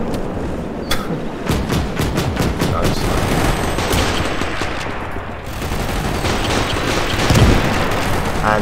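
Mortar rounds and gunfire in the World War II game Gates of Hell: Ostfront, a dense barrage of sharp bursts and booming impacts, loud and continuous, with rapid volleys building toward the end.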